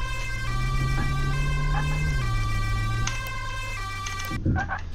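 Police car siren in the video game Flashing Lights, a loud continuous electronic wail with stepped tone changes over a steady engine hum, cutting off near the end.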